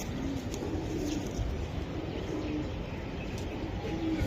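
Giribaz pigeons at a loft coo softly and steadily, a low rolling murmur of several birds layered together against a constant background hum, with faint chirps now and then.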